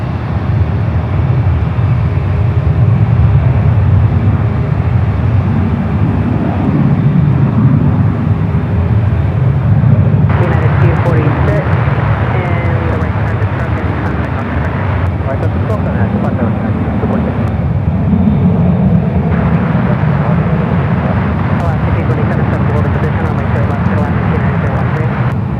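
Korean Air Boeing 787-10 Dreamliners taxiing toward runway 28 at San Francisco airport, a steady loud jet engine rumble with broadband roar throughout, shifting slightly in tone midway, with faint voices underneath.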